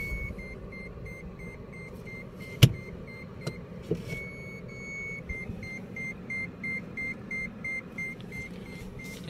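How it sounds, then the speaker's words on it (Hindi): Reverse parking sensor of a 2022 Mahindra XUV 300 W4 diesel manual beeping in steady, evenly spaced pulses that later run into one long continuous tone before pulsing again, with a couple of sharp clicks and a low idle hum underneath. "इसमें रिवर्स सेंसर की जो भाई बीप साउंड है ना, एक नंबर है।"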